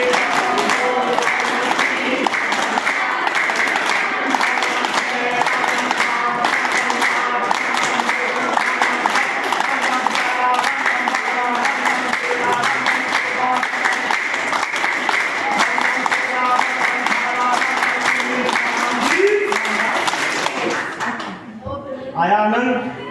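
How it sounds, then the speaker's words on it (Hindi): Schoolgirls at Lala Lajpat Rai Kanya Inter College clap together as an audience. The loud, continuous applause holds steady for about twenty seconds with a brisk shared rhythm, then fades out while voices come in at the end. "सबकी ताली एक साथ बजेगी। चलो बजाओ ताली।"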